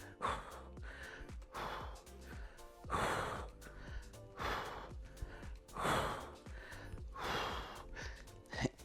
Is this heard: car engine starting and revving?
no